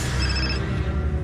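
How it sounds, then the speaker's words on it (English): An incoming call rings on a telephone, a steady bell-like ringtone with tonal bands that fills the whole short moment, loud and close, with no talking over it. "There's an incoming call, and I answer it."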